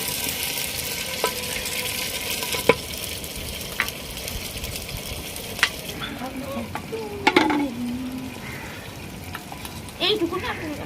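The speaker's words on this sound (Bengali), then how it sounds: "আমি একটু নাড়িয়ে নিচ্ছি" Potatoes fry in a handi pot while being stirred, a steady soft sizzle with occasional scraping knocks of the spoon against the pot and a few clinks, fairly close.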